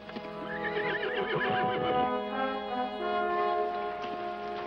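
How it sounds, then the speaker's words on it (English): A horse neighs loudly in a long, wavering whinny over soft hoof clip-clop, with no voices, in an outdoor western setting. "Horse."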